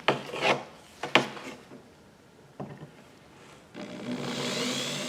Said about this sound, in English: So now let's go ahead and screw these down.